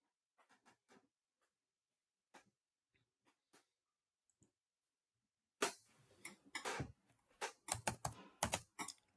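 Keys clatter on a computer keyboard as code is typed, a few sparse taps at first and then a dense, rapid burst of close clicking toward the end, with no talk.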